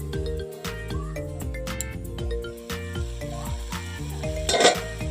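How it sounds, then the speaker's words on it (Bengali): Spices for a fish and eggplant curry sizzling in a pan, a continuous close frying hiss beneath a strong repeating musical tone, with a brief louder clatter near the end. "দেখো মশলা কষানো হয়ে গেছে বন্ধুরা"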